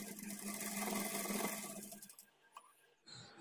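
Close, continuous whirring of a sewing machine stitching a marked line along a blouse side seam, running for two seconds before stopping, followed by faint fabric handling.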